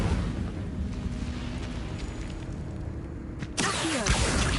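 A fire spell cast in Hogwarts Legacy erupts as a sudden whooshing burst near the end, after a low, steady rumble of game ambience.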